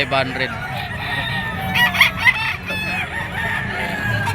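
Young gamecock stags crow at a busy pet market, several overlapping calls mid-distance over a steady crowd murmur, with some voices in the background.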